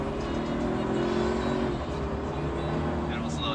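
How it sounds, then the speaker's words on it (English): Twin-turbo V6 of a 2023 Toyota Sequoia TRD Pro accelerating hard on a test drive, a steady rising engine roar heard from inside the cabin. "Give it some gas and let it rip."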